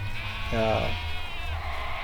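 Goats used for grazing give a single clear bleat partway through, heard against a steady background hum with faint talk around it.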